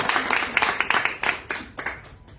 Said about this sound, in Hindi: मैडम के लिए एक ताली हो जाएगा।